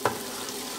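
Ginger and garlic fry in a pan with a brief spatula knock at the start, followed by a soft, steady sizzle heard close up and alone.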